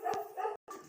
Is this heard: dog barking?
yes